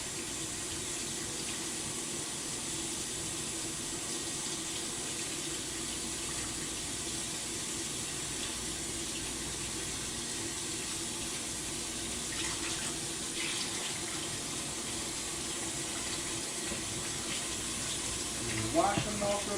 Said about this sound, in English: Rinse off my hands.